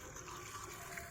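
Fuel pouring into the drained tank of a Porsche 996, a steady rushing, gushing liquid flow heard close and fairly quiet for about a second, with no talking.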